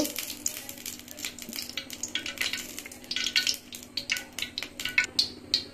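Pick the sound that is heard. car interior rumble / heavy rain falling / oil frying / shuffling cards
oil frying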